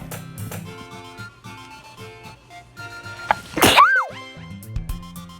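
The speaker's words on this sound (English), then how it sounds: "I feel like sneezing." One sharp sneeze bursts out over quiet background music, a quick intake followed by a loud explosive release.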